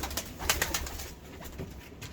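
Grey pigeons coo softly in a loft, giving a few low, rounded, pulsing calls over a couple of seconds.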